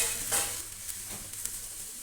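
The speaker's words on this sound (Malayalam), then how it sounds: "ഒന്നുകൂടെ മിക്സ് ചെയ്യുക." Jeera rice with lemon juice being stirred in a pan, a soft scraping and shuffling of grains with a faint sizzle, steady and close, no voices.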